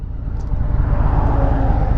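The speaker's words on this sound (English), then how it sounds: "let this car go." A car rolls past a motorcyclist pulled over at the roadside, a loud, close, low rumble of engine and tyre noise that swells and holds steady, with no voices.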